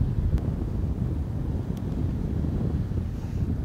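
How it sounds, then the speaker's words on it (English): Strong wind buffets the microphone on hole 7 of a disc golf course during a tournament round, a steady low roaring rush that persists throughout with slight gusting surges and no talk. "a wind just ripping in your face here on hole 7"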